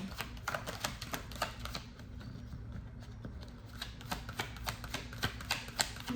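Tarot cards shuffled by hand during a reading, a steady stream of soft rapid riffling flicks and taps continuing throughout, close and fairly quiet with no voice over it.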